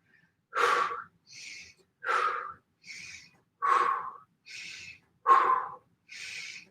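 A person holding an elbow plank breathes deeply in an even rhythm, with four loud, rough inhales or exhales, each followed by a softer, airier breath, all close and alone against silence.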